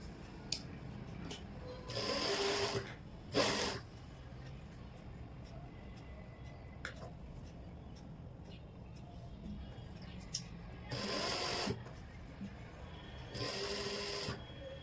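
A sewing machine stitching a zipper strip onto a pair of pants runs in several short loud bursts of rapid mechanical whirring, separated by quieter pauses with faint handling clicks.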